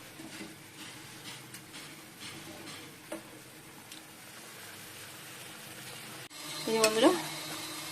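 Pointed gourd dolma (potoler dorma) stir-fries in a pan with a soft, continuous sizzle and light scraping stirs, and a louder burst of clatter and sizzling comes near the end.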